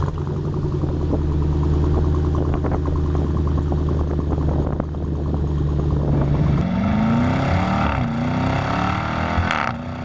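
A deep 392 V8 in a 2018 Dodge Durango SRT idles with a loud exhaust rumble, then revs up and climbs in pitch before settling, close and powerful.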